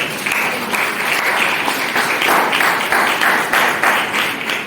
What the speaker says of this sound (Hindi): इस बात पे तालियां हो जाए।